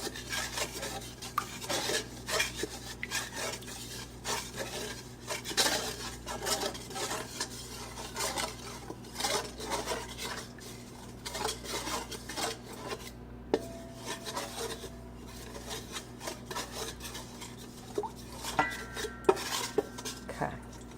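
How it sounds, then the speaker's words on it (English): A spoon stirs salt into a bread mixture in a bowl, producing continuous scraping and rubbing with frequent light clinks against the bowl over a low steady background hum, close and fairly quiet. "That's the salt, and we're going to stir it in."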